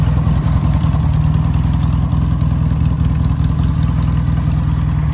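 Norton Atlas classic British motorcycle engine running at a steady idle, a loud, even, rapid thumping beat that continues unchanged throughout with no voices.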